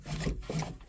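Seatbelt webbing in a 1996 Dodge Grand Caravan at a salvage yard is pulled out in two short scraping rubs, quiet and close.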